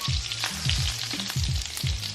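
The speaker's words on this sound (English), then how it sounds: "I still have a couple more meatballs to cook" Meatballs frying in a pan give a steady, fairly quiet sizzle and crackle, with occasional stirring clunks and scrapes repeating every half second or so, close up and with no talking.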